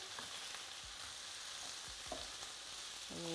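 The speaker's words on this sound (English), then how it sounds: "So I'm just going to fling the rest of the veg in now. Just fling it all in there together. And just give it a nice wee stir there." Vegetables sizzle steadily in a hot pan while a spoon scrapes and stirs them in a few soft, irregular strokes, with no voices.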